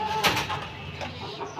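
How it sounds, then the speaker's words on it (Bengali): A chicken kept on a rooftop garden clucks in short, close bursts against a steady background hiss, one louder squawk standing out near the start. "এই হলো আমাদের মুরগি।"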